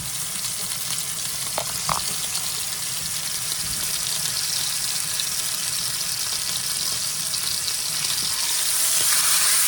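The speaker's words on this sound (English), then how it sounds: "Let that fry up a minute." Food fries in a pan for a roast dinner, giving a constant, dense sizzling hiss with occasional small pops. It is close and fairly loud, with no voices.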